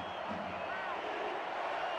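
Football stadium crowd at an SFL game in Baltimore, a broad steady roar of cheering and rallying noise for the home defense on third down, continuous and dense throughout with no clear single voices.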